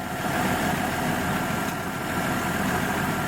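A Ford 4.2 engine idles steadily with a low, continuous rumble throughout, burning off grease and oil on a new exhaust manifold, no voices present.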